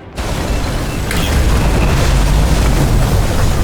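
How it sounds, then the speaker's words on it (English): A sudden loud pop as fuses blow in the video game Nobody Wants to Die, followed by a dense, steady roar and low rumble that holds without any voices. "Fuses just blew."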